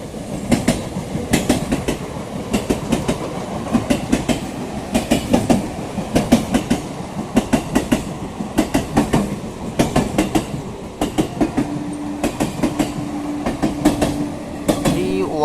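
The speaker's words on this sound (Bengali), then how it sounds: "31528 ডাউন শান্তিপুর শিয়ালদা লোকাল" A down Shantipur–Sealdah local train runs past Kanchrapara Workshop Gate, its wheels clattering in a fast, continuous clickety-clack over rail joints, close and loud, with a sustained tone rising near the end.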